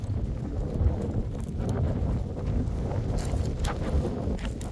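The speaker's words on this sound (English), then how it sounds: "it's windy" Steady wind blows over an open, dry farm field, buffeting the microphone as a continuous low rushing roar with no clear gusts or pauses.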